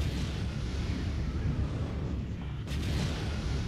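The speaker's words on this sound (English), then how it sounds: "Wow, magical bombs dropping from nothing." Bombs exploding in the WWII VR game The Last Sniper form a dense, continuous rumble of distant blasts and booms, with a sharper crack near the middle and no clear speech.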